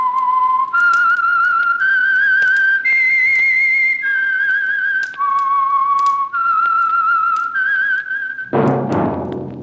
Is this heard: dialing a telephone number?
no